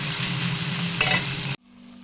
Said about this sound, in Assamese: এয়া মাছৰ তেল ভাজিব লৈছোঁ, মাছৰ তেলেৰে ভাত ভাজিম।